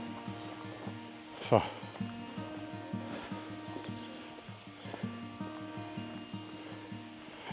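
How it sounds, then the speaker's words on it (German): Waterfall near Bergen in the Chiemgau, water splashing somewhere between the trees: a steady, distant broadband rush with one brief louder knock, and a voice speaking briefly over it. "da hören wir jetzt das Wasser plätschern"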